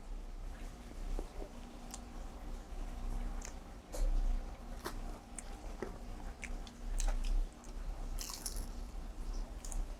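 Crisp crunching bites and chewing of cooled Gangwon-style crispy fried chicken (dakgangjeong), close to the ear, with loud crunches repeating every second or two.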